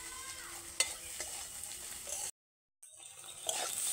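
Maggi masala frying with egg in oil, a quiet continuous sizzle with occasional light utensil clicks, cut by a brief dropout of total silence midway before the frying resumes; no talking.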